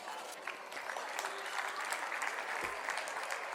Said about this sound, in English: Please keep clapping so that they are encouraged to perform once again as they come together for the finale.